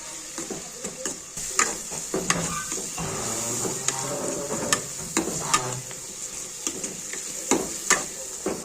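A spoonful of turmeric is stirred into sizzling oil in a pan, giving a steady close frying hiss with repeated sharp clacks and scrapes of the spoon at an uneven rhythm, and no talk.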